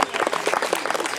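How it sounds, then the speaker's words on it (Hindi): Crowd applause at a birthday celebration with cake-cutting during a community Yoga Day gathering in Tribune Colony, Ambala Cantt, a short burst of scattered clapping with a few voices mixed in. "तालियां।"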